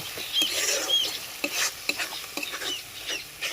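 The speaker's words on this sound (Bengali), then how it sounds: "পেঁয়াজ বেরেস্তা বাটা আর কিছুটা টক দই দিয়ে ভালোভাবে আবার বেড়ে চেড়ে" Fried onion paste and sour yogurt stirred in a pan for a bottle gourd, pea and paneer curry, producing steady close scraping and wet stirring over a continuous sizzle.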